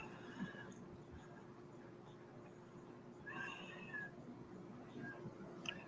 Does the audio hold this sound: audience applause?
no